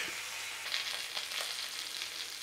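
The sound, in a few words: steak fat cap searing in a pan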